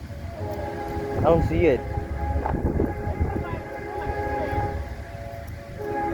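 Train rumbling past in Storm Lake, Iowa, a low continuous rumble with a brief horn-like sweep, heard under close conversational talk during a tornado siren test.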